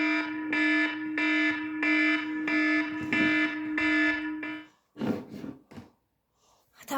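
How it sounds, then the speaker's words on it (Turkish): An electronic alarm for a Squid Game style game sounds as a loud buzzing tone in about eight steady, evenly spaced pulses. It then cuts off, leaving brief rustles and breaths. "Şu alarm şey yapalım."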